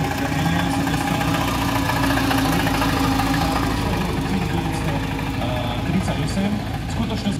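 A 1938 BMW R71 motorcycle engine runs steadily with a continuous low mechanical rumble throughout, close and fairly loud with no clear change in pace, with talk heard over it.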